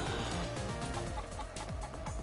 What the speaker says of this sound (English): Now we've got a chicken on our side.